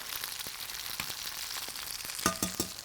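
Flank steak strips sizzle and hiss in hot oil in a pan for a stir fry: a steady, close frying crackle with a few sharper pops and spatters near the end, no voices.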